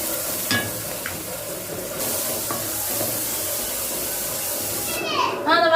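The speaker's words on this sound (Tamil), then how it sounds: "வெங்காயம் இவ்வளோ வதக்கினா போதும்" Onions sautéing in a pan, a steady bright sizzle with occasional stirring clicks and a voice near the end.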